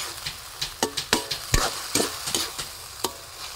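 Ingredients being sautéed in a pan for spaghetti: a steady oil sizzle broken by a dozen or so sharp, irregular scrapes and clacks of a utensil stirring against the pan, close and fairly loud, with no talking.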